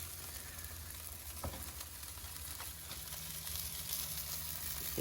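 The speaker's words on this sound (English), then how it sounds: "Still sizzling away." Chicken wings sizzle on an Oklahoma Joe's Judge smoker grill, giving a soft, continuous crackling fry with a few sharp pops, close by and fairly quiet.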